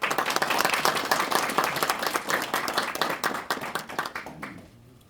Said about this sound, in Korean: 여러분 다 같이 박수로 시작에 에, 축하해 주시기 바랍니다